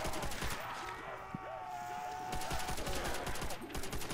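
Rapid Thompson submachine gun bursts in a Call of Duty: World at War custom zombies map, a dense rattle of repeated shots throughout, fairly faint in the mix with in-game sounds.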